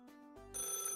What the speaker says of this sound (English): is that a phone ringing? A phone Is that a landline?